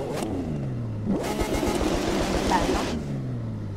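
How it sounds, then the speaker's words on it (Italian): Lamborghini Aventador in The Crew 2 racing game, its engine rising and falling through a burst of loud revving between quieter idle sweeps. "Allora, innanzitutto sentiamo il motore."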